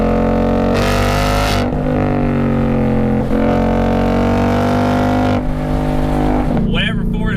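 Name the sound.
Mustang GT V8 engine and exhaust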